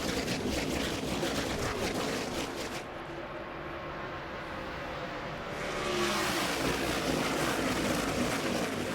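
NASCAR Nationwide Series race cars at the 2010 Stater Bros 300 roaring around the track in a dense, continuous engine howl that dips slightly in the middle and then swells again as the field passes.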